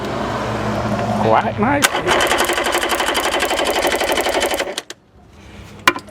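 A dirty, neglected three-cylinder outboard motor is cranked over, giving a rapid rhythmic mechanical chatter for a few seconds before stopping, with someone speaking briefly over it.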